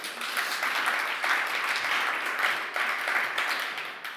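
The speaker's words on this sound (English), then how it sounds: "Let's have one more round of applause." A live audience at a design networking event gives a round of applause, moderately loud and sustained with slight swells in intensity from start to finish.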